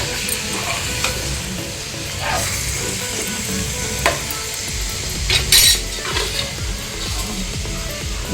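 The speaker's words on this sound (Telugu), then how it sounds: "ఇది ఆయిల్లో మంచిగా ఫ్రై కావాలి." Chicken frying in hot oil for a cashew chicken gravy, a steady close sizzle with occasional stirring scrapes and clinks of a utensil against the pan.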